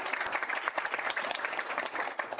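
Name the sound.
audience round of applause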